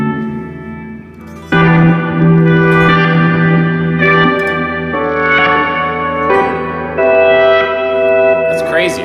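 Electric guitar played through an Empress Reverb pedal set to reverse reverb, with sustained chords swelling and washing into long, echoing tails over about nine seconds, loud and close with no talking.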